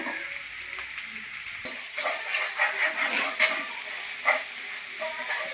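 Turmeric powder being stirred into a frying pan for a clam roast: a steady sizzle with soft scraping stir strokes, close and moderately loud, no talk.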